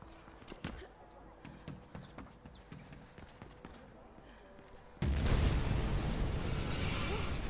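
Big explosion in the video game Mirror's Edge Catalyst, a sudden loud broadband roar that bursts in partway through and holds steady to the end, preceded by quieter scattered clattering impacts.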